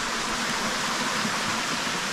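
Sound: waterfall stream at Achakanya waterfall

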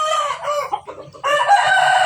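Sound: roosters and chickens crowing

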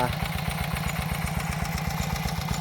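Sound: engine-driven pump draining a fish pond

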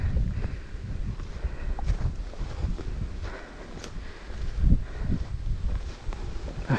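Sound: wind blowing through trees

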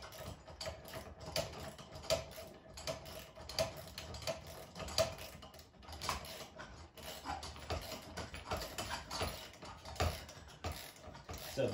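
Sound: tightening a bolt with a 7/16 inch wrench

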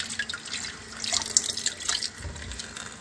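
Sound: tap water running while washing fish

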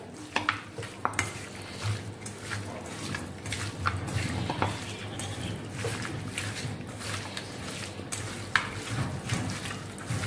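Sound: stirring mutton with garlic paste in a pot

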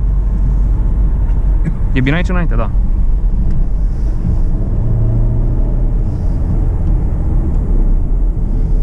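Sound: car driving at speed, interior engine and road noise

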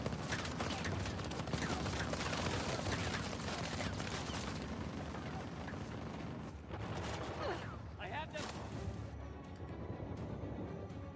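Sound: gunfire in a video game

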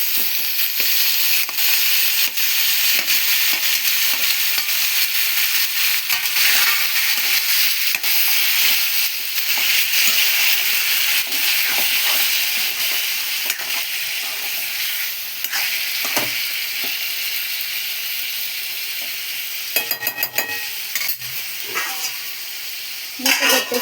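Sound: tomatoes frying and being stirred in a pan

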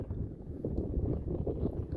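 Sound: wind noise on microphone

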